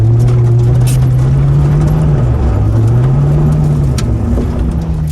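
A car's engine revs on a dirt surface during an attempt to drift, a loud steady drone whose pitch sags and rises again as the throttle changes, with faint rattles on top.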